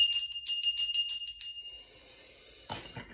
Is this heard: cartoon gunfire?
no